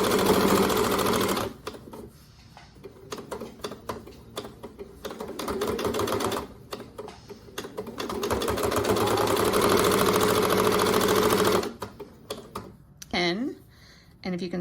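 A sewing machine stitches a reversible drawstring bag in several bursts of rapid mechanical whirring, some short and some long, close and loud, separated by pauses filled with handling noise and a brief voice.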